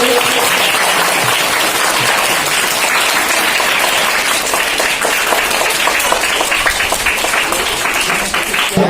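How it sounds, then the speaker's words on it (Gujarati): Loud, sustained applause from a large audience at a primary school girls' education and school entry festival, dense clapping welcoming schoolchildren and continuing steadily throughout. "આપણે એમને તાળીઓના ગડગડાટથી વધાવતા રહેતા"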